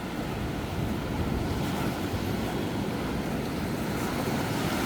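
Steady rushing surf of East Sea waves washing onto a fine sandy beach at Hajodae, Yangyang, South Korea, mixed with wind buffeting the microphone, continuous and fairly loud.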